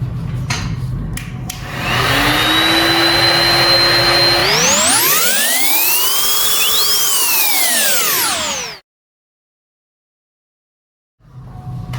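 A heat gun blows steadily to heat the battery screws of a JOYOR electric scooter. The loud, close whoosh swells and sweeps in pitch, cuts off into silence, then starts again near the end.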